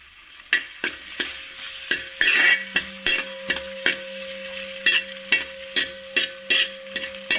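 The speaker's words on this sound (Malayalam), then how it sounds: "എല്ലാം നന്നായിട്ട് വറുത്തെടുക്കണം" Beef chilli ingredients fry in a pan while a spoon scrapes and stirs them in regular strokes over a steady sizzle. A faint tonal hum runs underneath.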